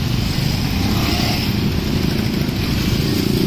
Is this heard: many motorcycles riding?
yes